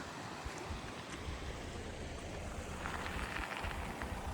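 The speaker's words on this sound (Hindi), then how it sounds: "ये है हसदेव नदी" The Hasdeo river near Bango Dam in Chhattisgarh, water flowing: a steady, faint broadband rush with a low rumble underneath, continuous and without talk.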